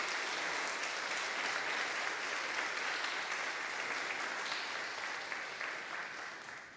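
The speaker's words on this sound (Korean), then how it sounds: "우리 감사의 마음을 담아서 우리 박수로 인사했으면" A church congregation claps in thanks during a revival service, a soft, continuous spread of applause that holds steady and then gently tapers toward the end.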